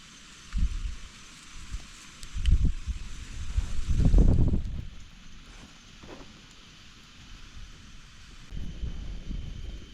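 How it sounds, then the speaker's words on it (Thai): Wind gusting constantly around an outdoor campsite with a tent, rumbling low against the microphone in uneven surges that swell loudest midway, with no voices. "เพราะว่าลมพัดตลอดเวลา"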